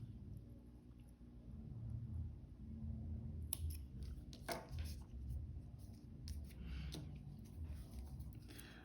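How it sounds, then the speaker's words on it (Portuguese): Scissors snipping leftover yarn ends off a finished crochet heart bookmark, a few close, quiet crisp cuts over a soft rustling background. "E vou cortar as sobras"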